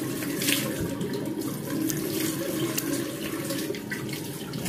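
Tap water runs steadily from a faucet into a sink while someone washes their face during a skincare routine, a continuous close hiss and splash with small uneven spatters throughout and no speech.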